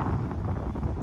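Strong wind buffeting the microphone on a shallow rocky sea cliff during shore fishing, a steady loud roar throughout with no talking.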